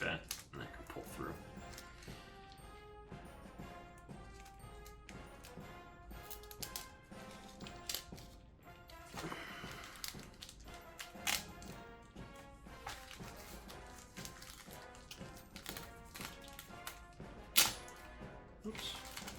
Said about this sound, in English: This one's sealed up a good bit more than the regular ones. Let me just cut it open.